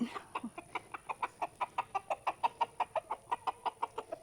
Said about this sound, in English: He's calling his hens.